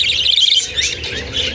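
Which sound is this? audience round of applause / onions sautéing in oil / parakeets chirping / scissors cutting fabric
parakeets chirping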